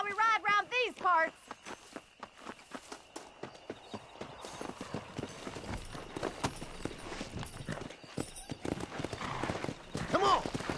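Rhythmic horse hooves clip-clop steadily in Red Dead Redemption as a horse is ridden, opening with a loud whinny and closing with another neigh, while people talk over the galloping.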